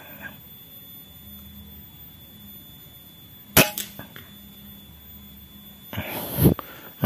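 A scoped gun is fired at a target 30 metres away while being zeroed, giving one sharp crack midway and a second, rougher shot burst near the end, both short and close against a quiet background.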